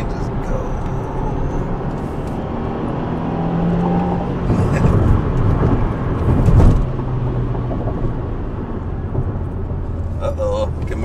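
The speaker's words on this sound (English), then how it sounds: "Downshift rev match." Engine of a 2022 Subaru WRX rising in revs during a downshift rev match on a curvy road, a steady loud drone with a brief swell near the middle, heard from inside the car under talk.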